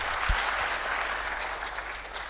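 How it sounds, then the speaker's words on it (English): Brief, steady applause from an audience at a talk on the geopolitics of oil and gas, with even, continuous clapping that holds at a constant level throughout. "round of applause, please."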